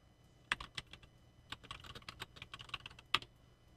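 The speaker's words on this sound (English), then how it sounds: "my keyboard's so clacky" Rapid, irregular clacking of keys on a clacky computer keyboard, close and crisp, with a few sharper louder strikes standing out among the steady bursts of taps, no talking.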